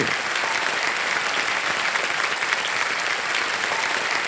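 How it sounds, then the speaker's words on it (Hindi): Steady studio audience applause on a TV quiz show, a thick uniform wash of many people clapping together, loud and constant from start to finish. "तालियां बजती रहे इनके लिए।"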